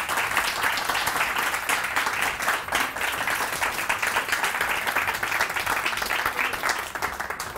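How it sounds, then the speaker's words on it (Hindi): Steady, dense applause from a crowd, sustained and fairly loud throughout, fading slightly at the very end. "इनके लिए बहुत सारी तालियां"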